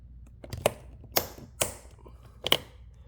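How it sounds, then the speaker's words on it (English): A screwdriver pries a plastic interior light cover out of a Challenger car, giving four sharp, close plastic clicks and snaps spaced irregularly over a few seconds with quiet between. "put your screwdriver under the edge right here and just pop it out"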